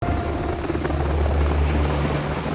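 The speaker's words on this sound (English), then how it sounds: "They make the pilot fly the helicopter to the place where Langston is going to meet AM" A helicopter flies in a film scene, its loud continuous rotor thump and engine roar running steadily throughout with no break.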